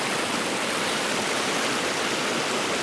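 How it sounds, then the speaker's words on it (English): Sea water surges over rocks on Cornwall's wild coast and swirls back on itself in a whirlpool, a loud, steady, close rushing roar with no breaks. "this whirlpool, if you like, or where the water comes down and goes back on itself"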